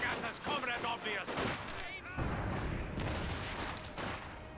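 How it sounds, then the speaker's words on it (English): Gunfire in the video game Company of Heroes 2, with scattered shots and booms in a battle mixed under voices speaking throughout, moderately loud. "They are shooting at us, comrade obvious."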